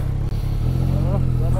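A Yamaha Tracer 9 GT motorcycle engine rumbles loudly and close while riding, its low drone shifting in pitch, with a voice speaking over the engine noise.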